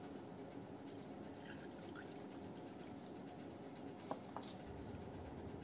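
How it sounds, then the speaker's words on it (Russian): Osmosis-filtered water is poured into the tank of a very small mius smart spray misting system. A faint, steady trickle of liquid runs continuously, close but quiet, with a couple of small splashes midway. "Наливаем воду, естественно,"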